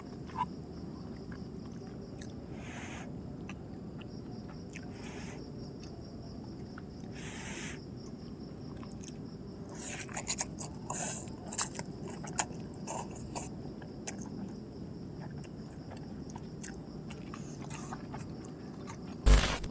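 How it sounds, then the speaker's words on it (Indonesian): Someone eats Pop Mie instant noodles out in a forest. Faint crunches and bites stand out in a cluster partway through, over a constant chorus of insects and night ambience. "Paling enak tuh makan pop mie di tengah hutan kayak gini teman-teman"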